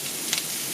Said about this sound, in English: So I'm just going to toss that to get it coated with a bit of oil.